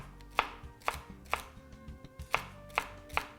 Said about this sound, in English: Just line all the pieces up and then slice.